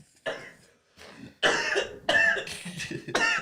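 Several harsh coughing bursts, close and loud, with short pauses between them and a throat-clearing quality.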